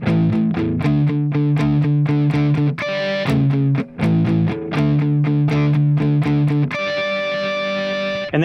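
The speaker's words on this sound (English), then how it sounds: "And then we're going to play this harmonic." Distorted electric guitar plays a ringing harmonic on the third string, alternating with chugging distorted notes and chords in a steady rhythm, loud and close with no talking.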